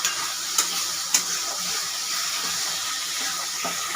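Tomato and garlic-ginger paste hit a pan of frying onions, producing a steady close sizzle and hiss while a utensil stirs, with a few brief clinks early on.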